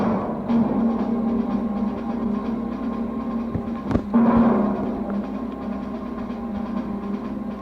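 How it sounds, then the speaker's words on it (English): A train rumbles steadily with a low engine hum, punctuated by a sharp metallic thump midway and a few clunks, no voices. "Wilhelm Krauss arrives by train, carrying with him the secret weapon plans"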